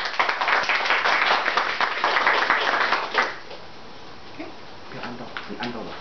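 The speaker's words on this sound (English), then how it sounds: "And we would like to give a big applause to our great man, Dr. Lim." A burst of clapping from a crowd for about three seconds, then it fades into quieter room noise with a few scattered claps.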